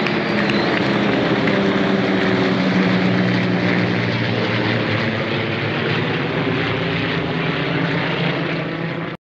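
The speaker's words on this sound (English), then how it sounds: "And the flyover." Aircraft fly over a public event in Eustis right after the national anthem, their engines making a loud, continuous roar that holds steady for about nine seconds and then cuts off.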